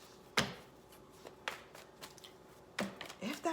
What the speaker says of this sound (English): let me go ahead and throw down more cards